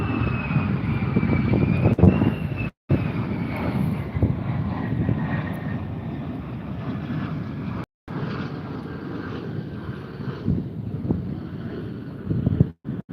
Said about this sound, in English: those planes, man, after a while it just gets annoying because they're doing these touch and goes off that runway